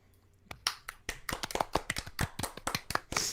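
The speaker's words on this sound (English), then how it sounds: "Can we all give a Soundsmith a round of applause?" A few people clapping nearby during an online group chat, sparse at first then building into quick irregular claps for about three seconds, close and fairly clear with no talk over it.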